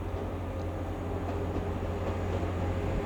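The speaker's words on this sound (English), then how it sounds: "185148 on the 1458 TransPennine Express service from York to Manchester Piccadilly" A Class 185 TransPennine Express train pulls out of York station with a steady low diesel rumble and faint rail noise, heard at a moderate distance without talk.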